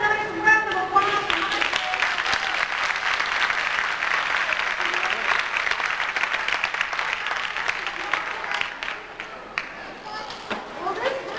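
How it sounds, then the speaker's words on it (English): Audience applause at a zoo dolphin show, a broad crowd of hands clapping steadily, tapering off near the end as a voice speaks over it. "Let's have a nice round of applause."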